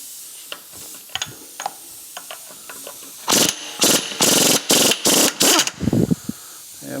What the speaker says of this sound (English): then we'll use the impact wrench and just get it off